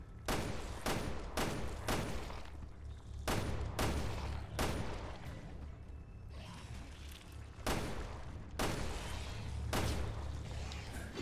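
Repeated gunfire in the survival horror video game Resident Evil Revelations 2, with loud bursts of shots in quick clusters separated by short pauses over a constant low rumbling game backdrop.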